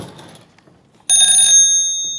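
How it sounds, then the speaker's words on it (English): MSA Firehawk M7 breathing apparatus sounding a loud, sustained high-pitched electronic alert tone that starts abruptly after a quiet stretch and runs to the end, with faint handling noise before it. "you heard the bell ringing. That's one audible alert. And then you heard the chirp."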